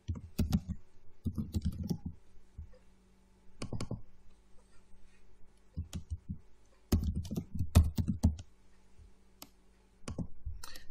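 Bursts of typing on a computer keyboard, rapid close clicks in several short runs separated by pauses, with no talking.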